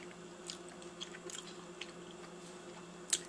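Quiet close-up chewing of a hot bite of vegan shepherd's pie, with soft wet mouth sounds and a few small crunchy clicks, including a sharper one near the end, and no speech.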